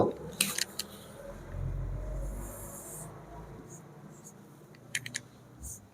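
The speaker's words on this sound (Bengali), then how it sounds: "তারপরে আমি লিখছি কিছু" A pen or marker scratches out notes during a Bengali geography lesson, with quick scratchy strokes near the start and again near the end, over a quiet low room rumble.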